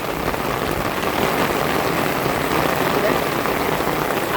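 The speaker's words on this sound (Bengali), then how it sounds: "এই দেখেন প্রচন্ড লেভেলে বৃষ্টি, ভালো বৃষ্টি পড়তেছে" Heavy rain pours down in a dense, constant hiss, close and loud with no break, heard while walking outdoors under an umbrella.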